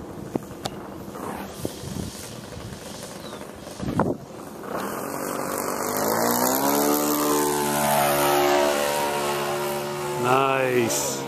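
A Showtime 90 radio-controlled model airplane on its maiden flight drones overhead, its engine pitch climbing and shifting as it passes, after a few sharp knocks at the start.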